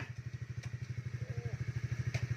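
A motorcycle engine putters steadily nearby, its rapid regular thumping pulses continuing throughout with faint background noise.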